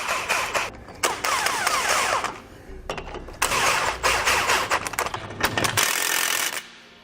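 Bolts on a SumoSprings helper spring plate of a 2014 Toyota Tacoma are run down with a power tool, giving repeated loud mechanical whirring bursts with brief pauses between them, close up and alone.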